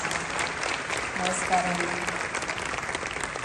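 An audience at an American Telugu Association convention applauds steadily to welcome a woman walking onto the stage, the dense clapping continuing as a voice speaks a short greeting over it.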